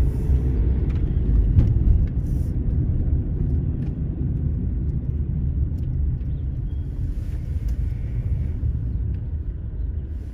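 A yellow fuel tanker truck rolls past, its deep, steady engine rumble loud and close at first, then easing slightly while staying a continuous low drone throughout.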